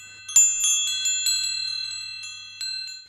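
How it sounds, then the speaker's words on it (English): A neighbour's wind chime rings on its own: bright metallic tones struck several times in an irregular pattern, each strike leaving long, overlapping sustained notes that slowly fade. "I can't stand my neighbour's wind chime."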